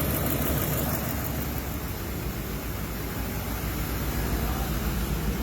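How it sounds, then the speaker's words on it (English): A car engine with a misfire fault idles in park, a dense, steady rumbling hiss that stays constant with no talk over it. "The engine doesn't sound too bad right now."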